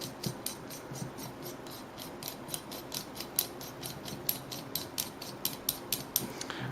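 Altoll Glock sight pusher bolt being threaded in, a fast run of close, crisp metallic ratcheting clicks repeating in a quick regular rhythm, quiet and clear with no talk.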